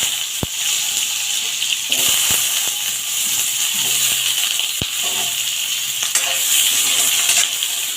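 Potatoes fry in hot oil with cumin, cardamom, cinnamon and bay leaf, giving a steady bright sizzle and hiss broken by occasional stirring knocks and clicks, close and continuous.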